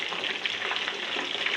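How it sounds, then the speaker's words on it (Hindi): Crispy chicken drumsticks sizzle in hot oil, a brief close-up burst of steady hissing and light crackling pops at moderate loudness. "ड्रम स्टिक्स कितने मज़े के फ्राई हो रहे हैं।"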